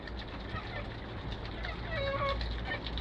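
Chickens cluck softly amid steady background noise, a few short calls scattered throughout, with faint talking mixed in.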